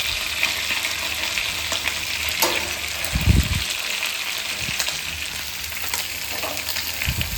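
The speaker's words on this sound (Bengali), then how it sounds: "মাছ ভাজা হয়ে গেছে" Hilsa fish pieces sizzle and spit as they fry in hot mustard oil, making a steady, close crackle with a few louder low bumps of stirring or turning partway through.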